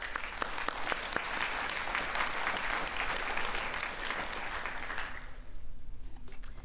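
Audience applause at a graduate orientation welcoming a speaker, a steady, full round of clapping from a sizable crowd that fades out after about five seconds into a quieter room.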